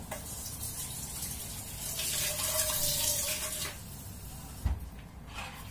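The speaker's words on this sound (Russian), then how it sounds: "водички сейчас еще чуть-чуть сюда добавлю" Water runs steadily into a pot of borscht for a few seconds, a soft splashing pour that stops, followed by a light clunk.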